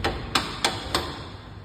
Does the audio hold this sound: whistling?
no